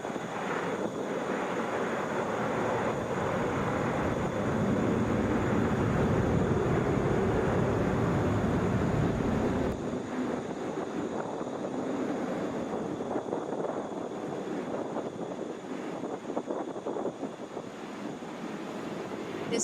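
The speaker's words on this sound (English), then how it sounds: "This is Air Canada Flight 1018, headed to Montreal on an Airbus A220." Air Canada Airbus A220 at Atlanta airport, a steady broadband jet roar with wind buffeting that holds loud for about ten seconds, then eases into a softer, fluttering rumble as the airliner moves off.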